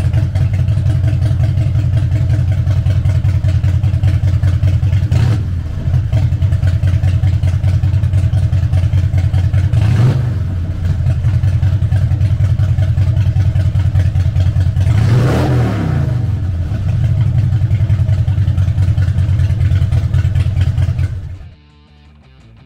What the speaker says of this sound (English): Powered by an 88 cubic inch V-twin motor, the Electraglide puts 67 horsepower and 86 foot-pounds of low-end torque through a 5-speed transmission.